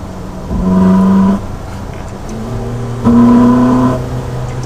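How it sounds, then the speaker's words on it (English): A Ferrari 458 Spider's V8 in race mode rises in two loud revs with steady tones, each held about a second over a rumbling idle, close by. "That V8 has a good sound to it."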